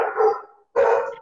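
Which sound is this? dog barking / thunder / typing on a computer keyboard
dog barking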